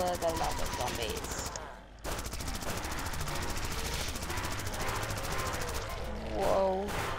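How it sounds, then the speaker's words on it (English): Continuous rapid machine gun fire from a car in the zombie driving game Zombie Driver, dense and loud, mixed with engine noise and game effects. "Now more machine gun time!"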